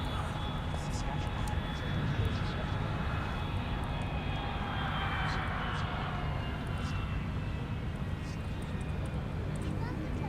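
A Delta jet lands on runway 12 right at Minneapolis–Saint Paul airport with a continuous, loud, even engine roar. The sound holds steady across the whole stretch with a faint high whine riding on top.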